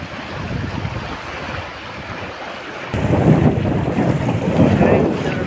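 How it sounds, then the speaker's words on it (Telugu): Krishna river floodwater rushes fiercely past a ghat at Vellatur, a loud, steady roar of churning water mixed with heavy wind buffeting, growing stronger midway without pause. "వాటరు భయంకరంగా వస్తుంది కదా"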